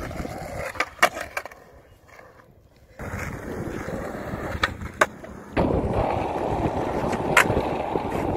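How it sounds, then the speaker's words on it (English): Skateboard wheels rolling and grinding, with sharp board pops and clacks as an ollie lands and a slide scrapes the last stretch; rough, steady rolling noise with wind over the mic throughout. "I kind of ollie and then slide the last bit in"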